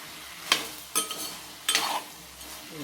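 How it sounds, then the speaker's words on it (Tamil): Tomatoes fry in a country chicken curry. A soft sizzle runs under three sharp bursts of a spoon stirring and clinking against the pot, with no speech. "தக்காளி சேர்த்து நல்லா வறுத்து"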